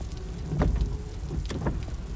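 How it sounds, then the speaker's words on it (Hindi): Rain falls in an anime film, a steady soft patter with a few heavier drops and splashes standing out. "बारिश हो रही है"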